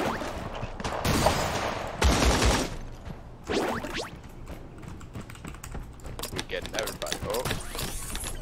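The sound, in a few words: gunfire in Creative Destruction video game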